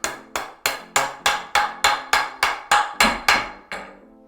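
A hammer strikes a hammer-on bushing onto aluminum EMT conduit, about a dozen sharp evenly spaced blows in a steady rhythm, loud and close with no talk.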